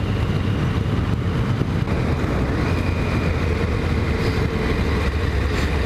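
A restored Kawasaki ZX10 motorcycle runs steadily on a shakedown test ride, its engine a continuous, loud drone with a faint rising whine, mixed with wind rush and no speech.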